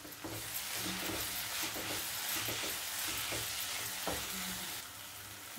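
Chillies and mint leaves sauté in a pan with a steady, close sizzle. Spatula stirs scrape and clack at irregular moments, and no one speaks.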